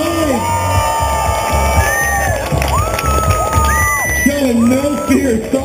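A crowd at a New York City motorcycle stunt show cheers and whoops for stunt rider Aaron White, with loud, sustained shouting and high yells throughout.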